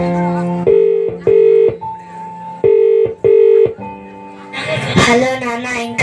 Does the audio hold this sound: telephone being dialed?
yes